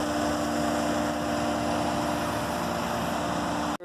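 The engine of a Cat 242D skid steer idles close by, a steady, fairly quiet rumble with a faint tonal hum that holds evenly before cutting off abruptly at the end.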